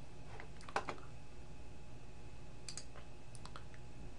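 A few light computer mouse clicks on an OK button in an MS Access database, sounding as crisp taps close to the microphone over a faint steady hum.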